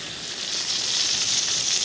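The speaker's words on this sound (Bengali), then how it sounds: "মাছগুলো ভেজে নেই মাছগুলো ভাজা হোক" Fish sizzles steadily as it fries in hot oil in a pan, a close, continuous crackling hiss with no pauses and no voices.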